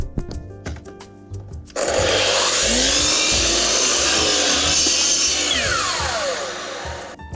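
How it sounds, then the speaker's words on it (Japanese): A saw cuts wood while a water tank is installed in a farm tank shed; after a quiet start with light knocks, a loud, steady, continuous cutting roar runs close up for the rest of the clip. "ノコで切っていきますよ"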